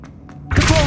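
The Revelio spell goes off in Hogwarts Legacy: after two faint soft taps, a sudden loud, full-bodied thump and shimmering magical wash rings out and sustains briefly.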